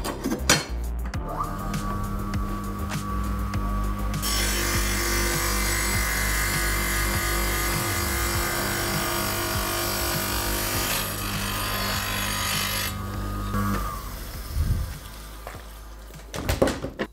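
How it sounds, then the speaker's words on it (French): Sidamo DIAMINIPRO180 water-cooled tile cutter slicing through faience wall tile: a loud, steady grinding whine as the diamond blade cuts, sustained for most of the clip, with the motor spinning up at the start and winding down at the end, no talking. "L'avantage de travailler avec un coupe carreau à eau, c'est de pouvoir préserver le disque et en même temps de travailler sans poussière."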